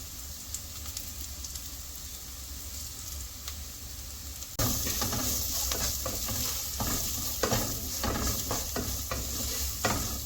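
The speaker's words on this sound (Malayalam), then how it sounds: "നന്നായിട്ട് മിക്സ് ചെയ്ത് കൊടുക്കുക" A white bitter gourd pickle mixture with asafoetida powder is stirred in a pan, a steady sizzling hiss with repeated scraping strokes that grows louder and busier partway through, with no talking.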